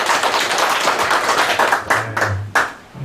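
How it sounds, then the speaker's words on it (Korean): Close, loud audience applause at a Korean clan association meeting: a dense flurry of hand claps that thins into a few separate claps near the end, with a brief low hum underneath. "하여튼 이걸 성사시킬 수 있도록 힘써주신 우리 현안 이사님께 한번 박수 좀 부탁드립니다."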